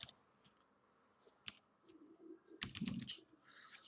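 Typing on a computer keyboard while entering a word into a program, a few scattered key clicks and then a quick close cluster of presses, fairly faint.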